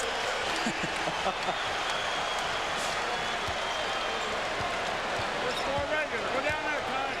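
Basketball arena crowd noise swelling with cheers for Kobe Bryant in a 1999 Lakers versus Utah Jazz game, a dense steady roar with sneaker squeaks and bounces, a commentator talking over it.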